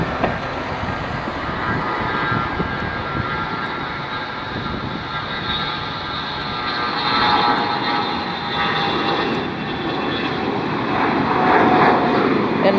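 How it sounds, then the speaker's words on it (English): A Gulfstream business jet taking off at Dulles airport on a rainy day, its loud, steady engine roar building and swelling over several seconds as it accelerates. "Gulfstream going for takeoff."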